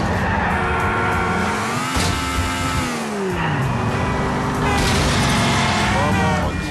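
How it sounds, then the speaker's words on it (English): Cars in a 2008 driving video game crash and explode, with booming impacts, roaring engines and crunching metal, loud and continuous, with a narrator talking over it. "the cars explode like they should"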